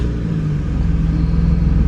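A Nissan GT-R engine runs right after starting up, a steady mid-pitched idle rumble holding close and loud with no one talking.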